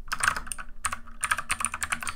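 Fast typing on a computer keyboard during a timed online typing test, dense bursts of clicky keystrokes close up with brief pauses, no talking.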